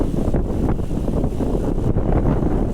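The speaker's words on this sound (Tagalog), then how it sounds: "lakas ng hangin talaga" Loud, gusty wind buffeting close up, a continuous roaring rush with no voices.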